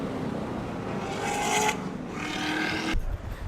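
A Corvette ZR1 engine revs and drops as it is driven hard through turns on an autocross track, with brief scraping tire noise and a sudden cut near the end.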